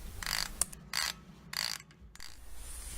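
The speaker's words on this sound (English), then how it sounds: "break the bolts, loosen them, and get them off" A ratchet clicks in short bursts while loosening the brake caliper bolts on a Jeep XJ, with three or four quick ratcheting runs separated by brief pauses, close and fairly quiet.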